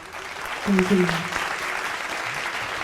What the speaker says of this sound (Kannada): ನಿಮ್ಮ ಆಯ್ಕೆಗೆ ನನ್ನ ಚಪ್ಪಾಳೆ